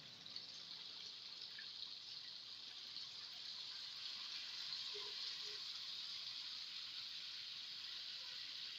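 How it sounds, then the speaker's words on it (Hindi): Water poured into a pot of sautéed chicken for chicken nihari, a steady hissing, gushing flow that runs evenly and fairly faint throughout, with no talk over it. "अब इसमें शामिल करेंगे हम पानी।"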